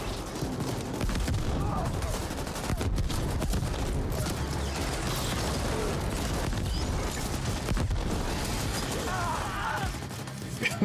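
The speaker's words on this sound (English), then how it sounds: "how did that guy explode from getting shot by a machine gun?" Sustained automatic fire in The Ascent, a sci-fi shooter, hammers on through the whole stretch, dense and loud, with heavy booms mixed into the chatter of machine-gun bursts.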